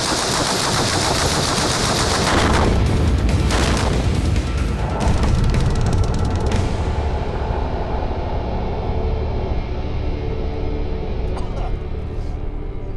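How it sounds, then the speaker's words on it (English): Gunfire and a big explosion from an explosive target at a concrete-tunnelled firing range, a loud dense roar with a heavy shockwave that slowly fades into a rumbling tail. "The shockwave from the explosion at the other end of the range has come barrelling up this concrete tunnel."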